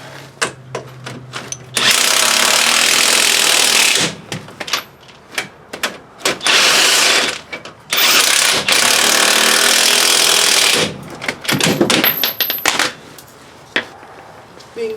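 Power tool bursts while bolts are tightened during removal of a seized wheel hub: several loud, sustained runs of a few seconds each, separated by short pauses with clicks and handling noise.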